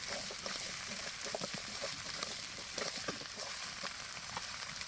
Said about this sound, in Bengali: মাংসটা দেওয়ার পরে ভালো করে কষিয়ে নিতে হবে।